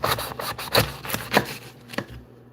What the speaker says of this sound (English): Let's cut this up.